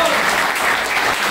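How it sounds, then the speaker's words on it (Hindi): Dense, loud applause from an audience at a live institute event, a steady wash of clapping hands filling the whole moment without pause. "एक बार फिरोज सर के लिए ताली बजाइए, एक बार हमारे साहिर सर के लिए ताली बजाइए"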